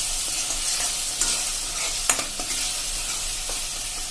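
Gravy sautéing in oil for a Punjabi potato-capsicum curry, stirred and mixed, with a continuous gentle sizzle and occasional light scrapes and taps of the spoon, no speech.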